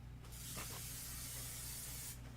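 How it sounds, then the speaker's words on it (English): Quilting adhesive spray hisses from an aerosol can onto fabric pieces, one steady close burst lasting about two seconds over a low background hum. "So now I'm just going to give them a little shot of spray."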